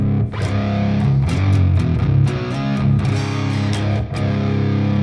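Electric guitar track with the tube gain plugins engaged for heavy gain, a thick distorted riff of rapid picked notes and sustained chords, loud and continuous without speech.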